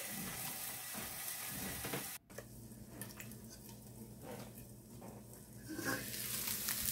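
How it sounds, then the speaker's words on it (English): Spam hash fries in a pan with a faint, continuous sizzle, and a stir scrapes across the bottom. "Give it a stir to make sure it doesn't stick to the bottom"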